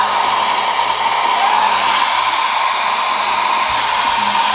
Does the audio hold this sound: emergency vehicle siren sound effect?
no